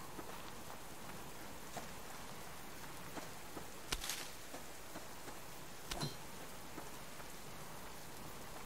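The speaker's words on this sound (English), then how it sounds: "About that rain and wind." Steady rain and wind fall in the survival video game Subsistence, a constant hiss with occasional louder drops or knocks, no talking.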